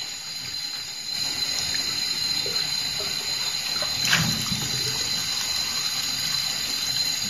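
Tap water runs in a steady, loud stream to rinse off shaving foam, with a brief splash partway through and no talk.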